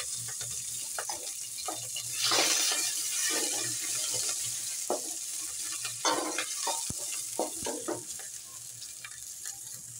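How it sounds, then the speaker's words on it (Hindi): Green chillies and onions fry in a pan for a red lentil daal masoor, sizzling steadily up close with intermittent scraping stirs. "अब हम ये हरी मिर्च और प्याज भून लेंगे।"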